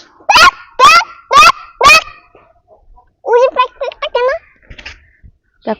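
A voice imitates a duck's quack: four loud, evenly spaced calls, then a quicker run of softer quacks.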